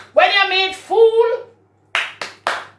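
Three sharp hand claps sound close, one after another, just after a voice speaks.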